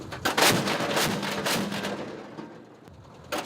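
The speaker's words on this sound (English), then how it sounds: "And then the order comes to open fire." Ukrainian soldiers open fire on Russian forces near Bakhmut, and a rapid series of heavy booming shots thuds out, loud and close, then dies down before one more blast near the end.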